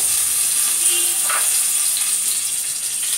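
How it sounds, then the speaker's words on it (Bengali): Bay leaf and garam masala tempering in a hot mix of refined oil and ghee, a loud continuous hiss of sizzling spices with a brief spatter in the middle. "তেজপাতা গরম মশলা ফোড়ন দেওয়া হয়েছে"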